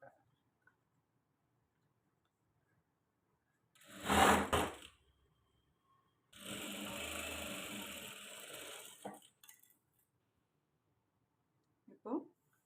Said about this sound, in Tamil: அதோட மேல் தையல் போட்டேன்.